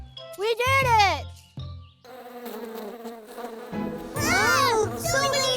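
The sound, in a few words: cartoon bees buzzing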